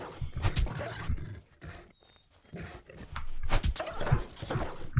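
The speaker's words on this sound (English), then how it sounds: "Oh, dog." A dog in the survival game Miscreated gives several rough barks and growls among shuffling footstep noises, with a short quiet gap in the middle.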